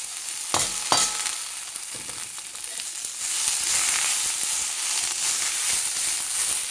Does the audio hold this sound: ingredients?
yes